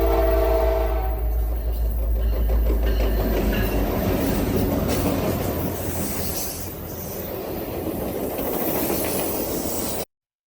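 A passing train rumbles loudly with a rhythmic clickety-clack of wheels over rail joints and a faint hiss, sustained for about ten seconds before cutting off abruptly.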